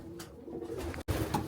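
Pioneer pigeons, cock birds in an aviary, coo softly in low repeated murmurs, close and steady, with a brief dropout partway through and no voices.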